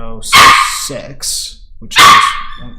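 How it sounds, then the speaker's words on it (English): A dog barks loudly indoors in two sharp bursts, with someone talking and counting numbers aloud between and around the barks. "sorry about the barking."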